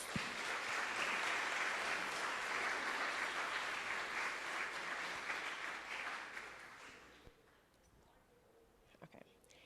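Audience applause at a 2018 Maryland gubernatorial debate, a steady broad clatter of many hands that holds for about seven seconds, then cuts off into a quiet room with a few faint knocks.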